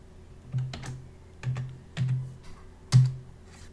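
A few separate keystrokes on a computer keyboard as a disk encryption password is entered on a Linux machine, close soft clicks spaced unevenly with one firmer final press.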